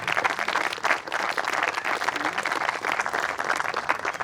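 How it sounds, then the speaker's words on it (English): Audience at a school house awards dinner giving a hearty round of applause, dense continuous hand clapping filling the room from start to finish with no talk over it. "Ladies and gentlemen, please give them both a huge round of applause."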